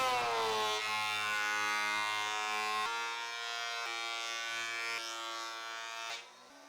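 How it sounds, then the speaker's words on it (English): Wood planer running as reclaimed wood is fed through to even its thickness, a loud steady machine whine with a dense harmonic buzz that holds for several seconds, then shifts pitch and drops near the end. "Now, I'll run it through the planer to standardize the thickness and remove any differences that might exist."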